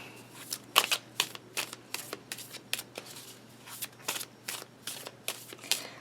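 Tarot cards are riffle shuffled again and again, each pass a quick crisp fluttering burst in an uneven rhythm, close and fairly quiet.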